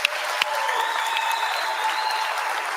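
Sustained applause from a large crowd of plant workers at the Kentucky Truck assembly plant, steady and dense for the whole stretch with a few sharper claps near the start.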